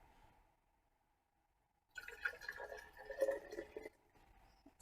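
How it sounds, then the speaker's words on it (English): Water poured from a measuring cup into a glass jar during a kitchen density experiment: after about two seconds of near-silence, a close, steady splashing pour runs for roughly two seconds, then stops abruptly. "I'm going to pour half in this jar and half in this jar."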